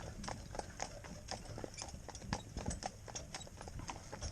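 Hooves of a cob mare clip-clop steadily as she walks in harness while being driven without blinkers, a regular rhythm of near, moderately loud footfalls on a hard surface.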